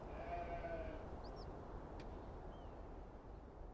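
Churro sheep bleating on a ranch in the game Beyond Two Souls, a short faint bleat over a low steady outdoor rumble, followed by a few thin distant chirps.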